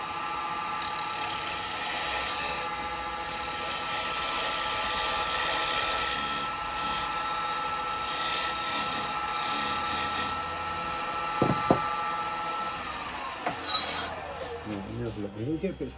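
A wood lathe spins as a square chisel turns a candlestick, giving a steady scraping, whirring cut with brief knocks and tool chatter toward the end. A person talks over it now and then.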